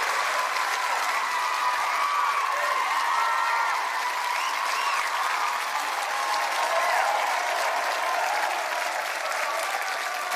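A television talent-show audience claps steadily for about ten seconds, a dense, even wash of applause from a roomful of people.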